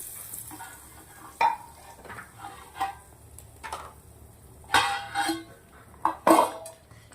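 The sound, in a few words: pouring tempering (vaghar) into Gujarati dal dhokli, stirring in pot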